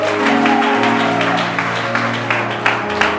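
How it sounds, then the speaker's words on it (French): A church congregation applauds and cheers in acclamation during a French-language worship service, with steady dense clapping and crowd noise over sustained music throughout. "Acclamons Jésus."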